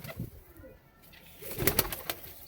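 Punjabi malai chhatri pigeons coo softly and low, a few faint throaty calls with light rustling and flutter-like bursts, fairly close but quiet.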